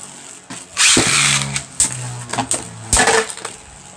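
A Drain Fafnir Beyblade spins after launch in a homemade stadium, giving a whirring hum broken by sharp metallic clashes and clicks, loud and close, with no voices.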